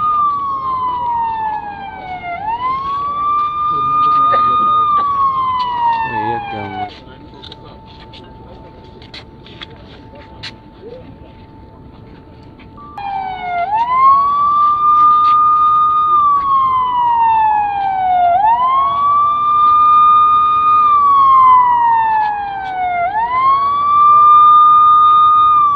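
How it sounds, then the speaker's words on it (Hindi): Wailing siren marking a minute of silence at a Kashmir solidarity gathering in Kotli, Pakistan, rising and falling in long sweeps, loud and steady, pausing briefly midway before resuming. "सायरन बजाकर 1 मिनट की खामोशी इख्तियार की गई।"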